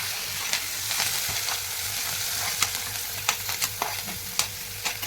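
Onion, curry leaves and two dried red chillies fry in hot oil, making a continuous close sizzle broken by several sharp stirring clacks and scrapes toward the end, with no speech.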